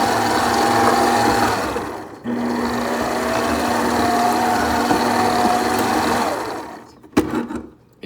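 An electric mixer kneads homemade bread dough as the last half cup of flour goes in, giving a close, steady motor whir that runs several seconds, dips briefly, then stops amid clattering handling noises.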